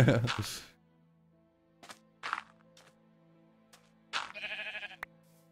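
Sheep in the Minecraft video game bleat in short bursts amid blocky thunks and footsteps, while a player chatters and laughs in German early on.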